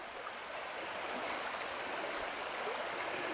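A knee-deep river stretch runs at a medium pace, giving a steady, fairly quiet rushing babble with no voices over it.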